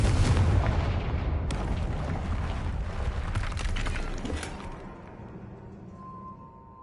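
A Confringo blasting spell goes off in Hogwarts Legacy, a heavy booming explosion with rumbling low end and crackling debris that decays over several seconds into quiet, with a faint tonal hum at the close.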